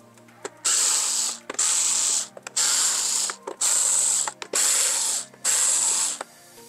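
A powered screwdriver with a T15 bit runs in six rhythmic whirring bursts while opening an original Xbox case, each run loud and close with brief clicking gaps between.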